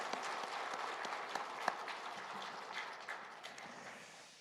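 Church congregation applauding during an Easter Sunday service, a sustained wash of many hands clapping at a distance, fairly faint, with a few sharper claps standing out before it gradually thins.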